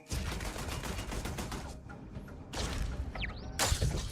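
Turret gunfire in the space game Starfield, a dense, continuous volley of rapid shots with whooshing passes and a brief lull before the firing surges again, loud and without speech.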